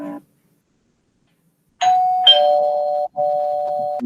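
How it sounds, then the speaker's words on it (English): A doorbell rings indoors, a loud, clear two-tone electronic chime that is held and then sounds again after a short gap, with no voices over it. "somebody rang the doorbell"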